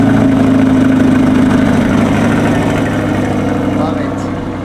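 A 2022 Chevrolet Corvette C8 HTC at cold start, its engine holding a loud, steady high idle with a dense low drone close by, easing slightly toward the end.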